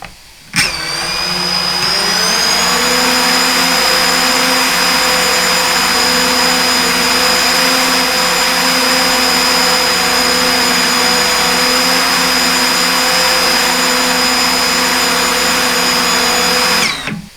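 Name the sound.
DJI FPV drone motors and propellers spinning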